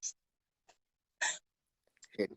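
A dog gives a few short, sharp sneezes separated by quiet pauses, ending in a quick flurry of snorting noises.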